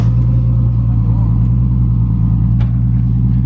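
A Toyota Supra engine idles with a steady, loud low rumble and a faint pulsing throb, holding an even level throughout with no talk over it.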